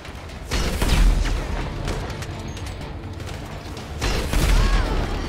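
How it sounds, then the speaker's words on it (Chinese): Rocket launcher blasts in a GTA5 zombie mod boom heavily, two loud rumbling explosions about three seconds apart, with continuous gunfire and game noise in between. "火箭筒来轰几下！"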